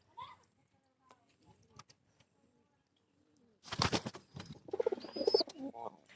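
A pigeon pair coos softly at close range, low throaty calls scattered among rustling and handling sounds, with a louder burst of fluttering and cooing in the second half; someone talks quietly at times.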